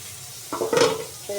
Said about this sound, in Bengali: আমি আলু আর একসাথে ভেজে নিচ্ছি